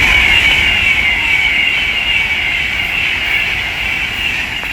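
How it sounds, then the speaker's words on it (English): Avanti West Coast class 390 Pendolino electric train passing at speed on the West Coast Main Line at Leighton Buzzard, a loud continuous roar with a sustained high whine, easing off slightly toward the end. "The next train to pass by is an Avanti West Coast class 390 Pendolino from London Euston to Glasgow Central."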